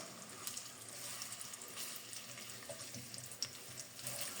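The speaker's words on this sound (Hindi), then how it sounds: "ऑयल गर्म होना शुरू हो गया, अब इसमें डालूंगा मैं अदरक और लहसुन।" Ginger and garlic fry in hot cooking oil, giving a faint, steady hiss and crackle with small pops, heard close in a quiet kitchen with no talking.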